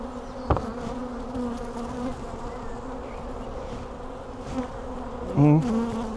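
Dense, steady buzzing of many honeybees around an open hive during inspection fills the air, with individual insects droning louder as they pass close by.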